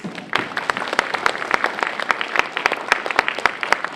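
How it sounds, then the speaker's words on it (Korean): Audience at an indoor jobs conference in Gwangju applauds, a moderate crowd clapping in crisp, distinct claps that build quickly and stay steady, heard clearly with little talk. "우리 시장님 두 분께 다시 한번 감사의 박수 드리겠습니다"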